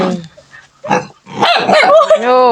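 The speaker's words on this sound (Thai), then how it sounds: "โอ้เห่ากันได้บัดนี้" Dogs bark near ducks on a rural farm, loud close yips and barks in short bursts, with some human voice mixed in.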